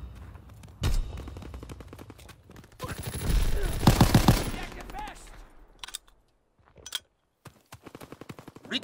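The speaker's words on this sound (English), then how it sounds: "Fighter pilot inbound, strafing the target." Rapid bursts of fighter-plane strafing gunfire in a video game, a dense rattling salvo building to a loud peak, with scattered short gun bursts and a voice talking around it.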